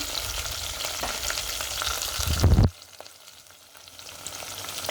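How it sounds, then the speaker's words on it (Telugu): Fenugreek seeds frying in hot oil for a sea fish curry, a loud close crackling sizzle that swells briefly and then suddenly drops to a quieter, steady fizz, with no voices. "మెంతులు కొంచెం వేస్తున్నాను ఒక చిటికెడు"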